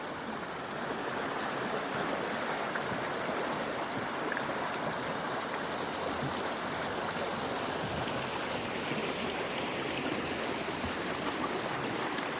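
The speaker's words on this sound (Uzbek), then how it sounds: "Tanxoz daryosi." Tanxoz river flowing below the snowy Hisor mountains near Shahrisabz, a steady broadband rush of water holding constant throughout, with no voices.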